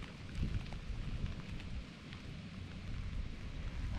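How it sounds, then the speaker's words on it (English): Heavy rain pours down steadily on an Alaskan beach near Fairbanks, a dense continuous hiss with low rumbling undertones and no voices. "Still pouring the rain down."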